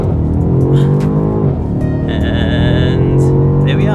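A BMW M850i with its 4.4-litre twin-turbo V8 (523 horsepower) pulls hard under acceleration, a loud, continuous engine roar with a brief dip around a gearshift before it builds again.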